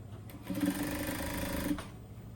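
A sewing machine stitches elastic onto a tracksuit waistband in one steady run of rapid mechanical whirring, close and fairly loud, stopping cleanly near the end.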